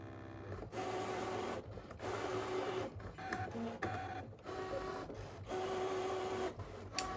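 Brother Scan n Cut machine cutting fabric with its auto blade, a steady mechanical whir broken by short pauses and repeated motor passes, with no talking.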